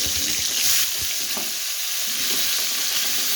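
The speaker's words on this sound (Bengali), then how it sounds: "এখন আমি এই তেলে কপিগুলো হালকা ভেজে নেব।" Cauliflower florets coated in turmeric, chili powder and a little salt fry lightly in hot oil, giving a loud, dense, continuous sizzle with a few soft stirring knocks.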